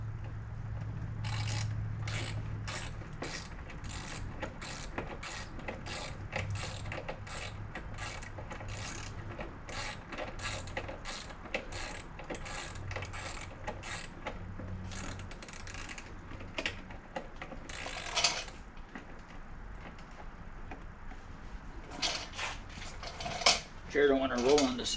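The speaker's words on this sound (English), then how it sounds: "Ended up having to dig out my big socket set" A ratchet wrench from a big socket set clicks in rapid bursts of short metallic ticks, repeated throughout at close range in a driveway while a car's headlight problem is worked on, with occasional talk underneath.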